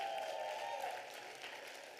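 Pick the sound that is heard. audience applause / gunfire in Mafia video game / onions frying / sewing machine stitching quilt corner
audience applause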